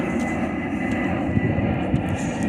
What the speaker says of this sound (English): Airplanes are constantly landing at our airport.